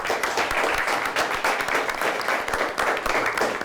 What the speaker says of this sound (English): Let's give St. Michael Petoskey a round of applause as well.